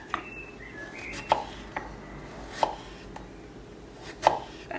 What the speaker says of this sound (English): The cucumber I'm going to slice into slices.